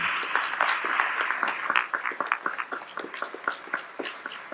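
Applause in an evangelical church, moderately loud and crowded at first, then thinning into separate, rhythmic claps from fewer hands.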